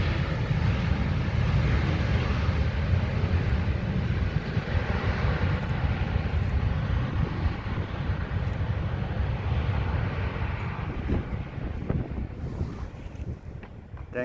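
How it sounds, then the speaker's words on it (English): A Malindo airliner at Kuala Lumpur International Airport rumbles steadily for over ten seconds, a broad roar heavily buffeted by outdoor wind noise, slowly easing toward the end. "This is a Malindo, another Malaysian aircraft landed at the Kuala Lumpur International Airport"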